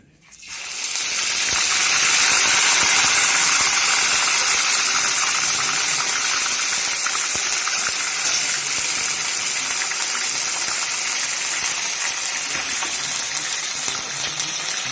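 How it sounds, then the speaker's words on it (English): Ginger garlic paste hits hot oil in a kadai and sizzles loudly, a dense, steady hiss and spatter that rises quickly and holds for the whole stretch. "Now the kadai is ready, the oil is hot. we will transfer the ginger garlic paste first inside it."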